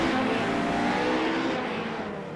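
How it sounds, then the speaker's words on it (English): Radical SR8 race cars at Le Mans pull away together in a loud, sustained engine roar, with rising revs and a dense layered drone that fades slightly toward the end. "So you just saw the SR8s pull away"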